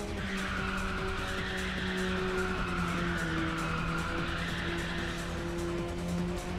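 A Ridge Racer 6 race car roars at high revs under a nitrous boost, with a constant loud engine drone and squealing tyres that carry on without a break.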